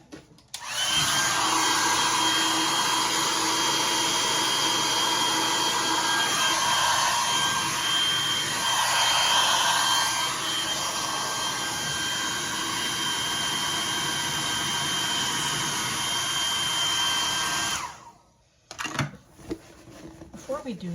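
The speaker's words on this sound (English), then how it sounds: "I'm going to use my hairdryer in there" A handheld hairdryer blows steadily and loudly for about seventeen seconds, warming a stiff part, then cuts off abruptly, leaving faint handling noises.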